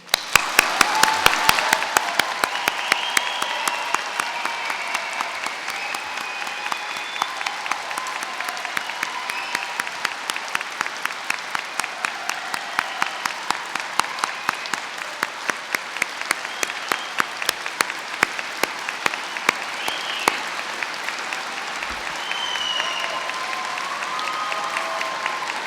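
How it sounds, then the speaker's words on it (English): An audience of families and staff at an Open University degree ceremony in Birmingham applauds the graduates, with long, sustained clapping that develops a rhythmic, unison beat as it continues. "let's get things going by giving our graduates an enormous round of applause."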